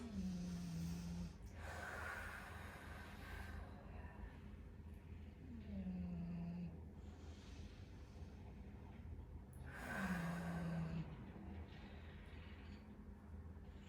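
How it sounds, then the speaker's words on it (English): Deep core and pelvic floor breathing exercise, with three slow rounds of audible breaths spaced several seconds apart, soft and close in a quiet room, each marked by a brief rising huff. "this is how you would do the deep core muscle breathing exercise"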